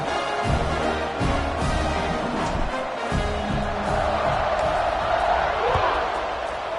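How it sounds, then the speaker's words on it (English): Football stadium crowd buzzing after a score as a kickoff is set up, a loud continuous roar of many voices with rhythmic low thumps and chants, under steady commentary talk throughout. "this crowd is buzzing after that last score."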